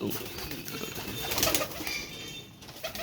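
Pigeons in a home loft, with soft cooing and faint wing movement continuing steadily under a constant background hiss, fairly close by.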